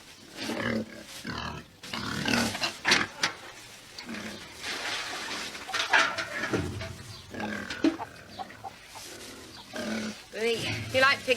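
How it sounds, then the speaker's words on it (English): A pig grunts and snorts in repeated bursts close by on a farm, the sounds mixing with people talking throughout. "You like pigs, Inspector?"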